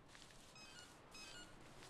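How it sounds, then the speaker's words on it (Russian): A phone beeping in the horror game Anthology of Fear, short tonal electronic bleeps in two brief bursts, quiet against a low, steady hiss of background ambience with no talking. "Запиликал телефон."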